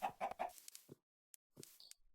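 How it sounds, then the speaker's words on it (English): Short bursts of clucking from chickens, close and fairly faint, with brief silent gaps between calls. "Chickens."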